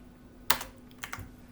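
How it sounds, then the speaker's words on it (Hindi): A single sharp key press on a computer keyboard as Enter is struck, followed by a couple of lighter clicks about half a second later, close up against a quiet background hum. "एंड प्रेस कर दीजिए एंटर।"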